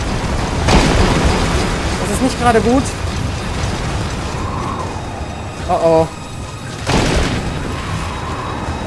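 Explosions in Metal Gear Solid V: The Phantom Pain burst out in loud, broadband blasts, a couple of sharp booms standing out over steady rumbling action while someone talks throughout.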